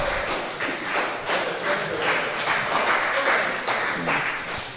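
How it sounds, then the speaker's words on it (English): An audience at the Ferness Foundation Award 2025 ceremony applauds steadily, the dense clapping holding even and fairly close for several seconds. "So give her a round of applause."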